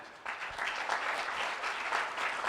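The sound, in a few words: audience applause for speakers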